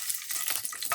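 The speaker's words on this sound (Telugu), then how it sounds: "మిరపకాయలు వేయించుకుందాం." Green chillies fry in hot oil with a continuous crackling sizzle, broken by sharper pops and spits, loud and close for a moment. Fried for a snake gourd yogurt chutney.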